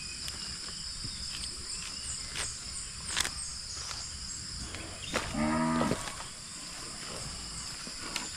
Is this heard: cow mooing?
yes